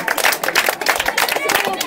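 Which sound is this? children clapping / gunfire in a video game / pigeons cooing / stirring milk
children clapping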